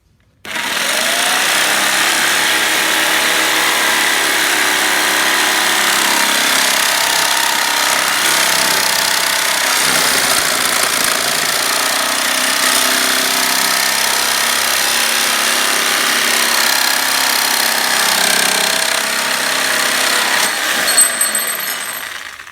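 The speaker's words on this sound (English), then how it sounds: "So I've cut the pole." A tent pole is cut with a power tool that gives a sustained, harsh, rattling buzz. The buzz runs loud and steady for about twenty seconds, then stops abruptly.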